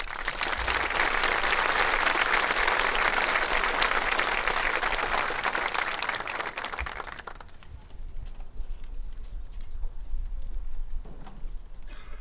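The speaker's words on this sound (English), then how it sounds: "Please give these people a round of applause" A large crowd at a 2024 high school graduation ceremony claps loudly and steadily for about seven seconds, then the applause drops off to scattered faint claps and room noise.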